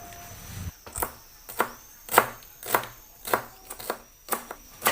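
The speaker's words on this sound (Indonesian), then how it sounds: "1 batang daun seledri diiris kasar juga" A knife chopping celery on a cutting board: about a dozen crisp, sharp taps in an uneven steady rhythm, close and clear with no talk.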